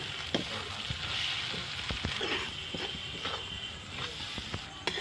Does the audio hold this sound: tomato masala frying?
yes